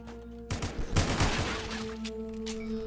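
A burst of rapid gunfire in the Roblox shooter The Border erupts suddenly, loud and close, crackling in a dense volley for about a second before fading into a lingering game hum with a few sustained tones.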